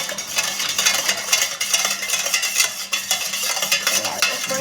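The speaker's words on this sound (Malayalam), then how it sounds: "സ്പൂൺ എടുത്ത് മിക്സ് ചെയ്യാം." A spoon stirs a sugar mixture in a vessel, giving a steady scraping, clinking swirl that stays close and fairly loud with no talk over it.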